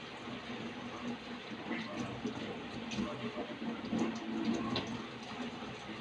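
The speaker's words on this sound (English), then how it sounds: "the water from my tap is a spring, coming from a spring or a well" A steady, hissing rush of spring or well water flowing from a tap continuously at moderate volume, with no voices.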